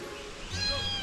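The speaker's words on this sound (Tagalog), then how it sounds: "Pusa mo pare!" A cat gives a short, fairly faint meow, with a soft thump at the end and some quiet background noise.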